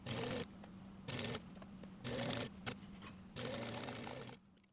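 Sewing machine top-stitching a footstool upholstery cover an eighth inch from the seam, running in several loud rhythmic bursts separated by short pauses, close and alone.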